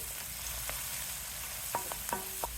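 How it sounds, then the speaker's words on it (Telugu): Chopped onions, green chilies, curry leaves and turmeric sizzle in hot oil in a pan for a sweet pumpkin curry, with a soft steady fry hiss and a few light scraping stirs near the end, quiet and alone. "తరిగి పెట్టుకున్న ఉల్లిపాయలు పచ్చిమిరపకాయలు కూడా వేసేయండి అలాగే కరివేపాకు కొంచెం పసుపు వేసి తిప్పుదాం"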